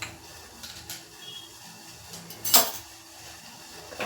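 A spoon stirs masala chai in a pot on the stove: soft scraping and faint clinks, with one sharp metallic clink partway through.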